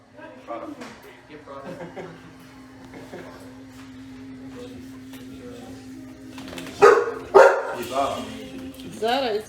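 Dogs bark and yip indoors while people talk over them, with scattered smaller yelps early and two loud, close barks near the end.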